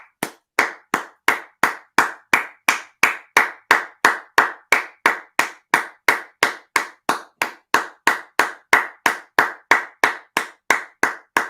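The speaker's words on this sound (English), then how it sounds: "let's give a nice Jason Garrett clap for Awesomeness Sports" A steady run of loud, evenly spaced single hand claps, about three per second for the whole stretch, close and alone with no talking, in the slow rhythmic style of a Jason Garrett clap.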